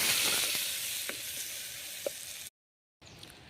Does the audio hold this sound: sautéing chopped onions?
yes